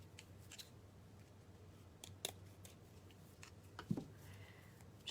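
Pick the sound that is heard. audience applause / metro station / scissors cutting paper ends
scissors cutting paper ends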